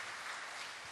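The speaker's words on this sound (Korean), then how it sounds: "우리 박수로 환영하도록 하겠습니다" A church congregation claps together in welcome, a steady, dense wash of applause from a full room at moderate level, with no voices over it for the whole second.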